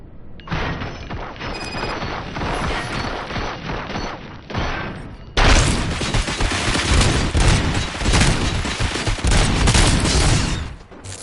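Heavy sustained gunfire from the RoboCop video game, a dense fusillade of rapid shots that grows louder and fuller partway through and keeps going to the end, with no talking.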